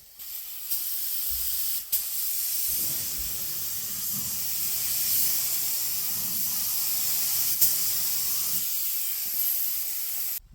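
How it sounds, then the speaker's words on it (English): A spray gun lays a tack coat of paint at about 16 psi during minor rust repair on a 2018 Ford Escape, giving a steady, close, even hiss that runs almost without a break after a few short bursts. "We're going to be spraying at about 16 psi. And we're just going to start with a tack coat."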